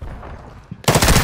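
Gunfire in a battle royale shooter video game, a sudden burst of loud, rapid automatic shots that cuts in after a moment of quieter background sound and keeps going to the end.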